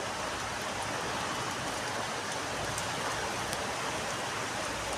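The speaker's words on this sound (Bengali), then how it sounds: "দেখো পুকুরের মধ্যে বৃষ্টির জলটা পড়ছে" Heavy rain pours into a pond beside a fig tree, a dense, even hiss of drops hitting water that holds loud and unbroken throughout, with no voices.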